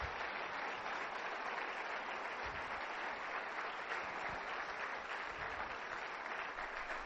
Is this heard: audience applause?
yes